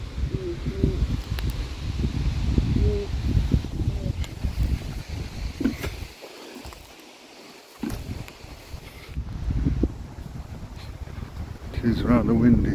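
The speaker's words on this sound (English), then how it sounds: "It's rather windy today, and it's a cold wind as well." Gusty wind buffets the microphone with low rumbling bursts, easing briefly midway before picking up again outdoors.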